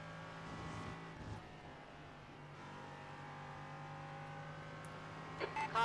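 An LMP3 prototype race car at Mugello in a sim racing game drones past with a steady engine note and rising revs near the end, while voices talk over it.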